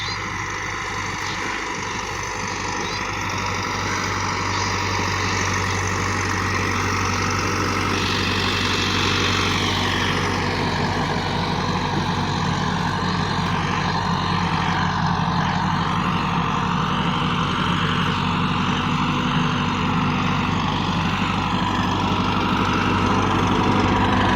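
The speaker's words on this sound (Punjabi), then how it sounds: "ਦੂਜੇ ਗੇਅਰ ਦੇ ਵਿੱਚ ਹੈ ਜੀ ਟਰੈਕਟਰ ਚੱਲ ਰਿਹਾ।" A 2015 Massey Ferguson 385 tractor pulls a 16-disc harrow in second gear over sandy soil, its engine a steady, loud drone throughout with no talk.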